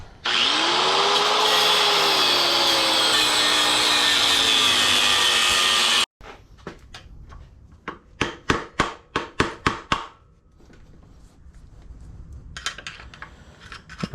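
A grinder cuts into the steel frame of a Kx500 motorcycle with a loud, steady shriek for about six seconds, its pitch sagging and recovering under load. A burst of sharp metallic knocks and taps follows up close.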